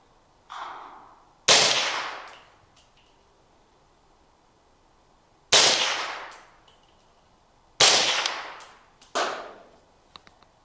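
Four suppressed 300 Blackout rifle shots with 150 grain supersonic ammunition crack out alone at irregular gaps, each a sharp loud report with a short ringing decay, plus faint metallic clicks between.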